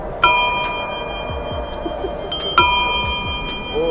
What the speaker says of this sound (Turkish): Korna burada.